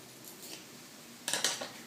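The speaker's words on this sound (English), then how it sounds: "And now you want to cut it lengthwise." Scissors snip lengthwise through fresh leaves for naturally dyeing Easter eggs, a few quick close crisp cuts in a quiet room after a soft rustle.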